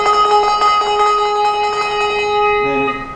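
A handbell is shaken so its clapper strikes both sides, giving a bright, sustained ringing with rapid repeated strikes. It sounds close and loud, with no voices.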